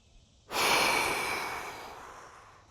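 A single deep breath is drawn in sharply through the nose and then let out in a long, slowly fading exhale through the mouth, close and alone.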